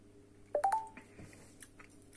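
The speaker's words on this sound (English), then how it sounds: "Sorry about the notification." Phone notification chime: three quick rising electronic tones in close succession, clear but modest in level over a quiet background hum, followed by faint scattered small noises.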